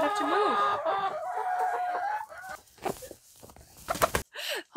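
Backyard laying hens cluck outdoors, a close, busy run of calls early on that thins out into scattered sounds and rustling.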